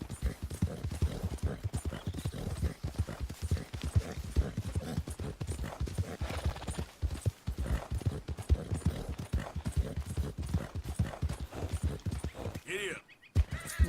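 Horse hooves clip-clop steadily in Red Dead Redemption 2, a continuous galloping rhythm running through the whole stretch with a commentator talking over it.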